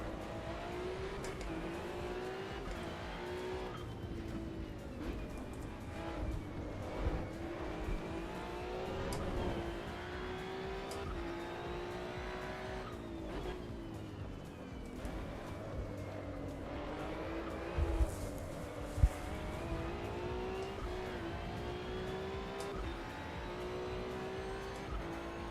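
A race car in the driving game Assetto Corsa Evo runs steadily at high revs, the engine note rising and dropping through repeated gear changes, with occasional tire noise and a few sharp clicks.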